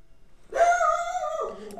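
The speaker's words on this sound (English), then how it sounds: "if my dog doesn't shut up" A household dog lets out a single drawn-out howling bark or whine, near and moderately loud, sliding down at the end, with no talking over it.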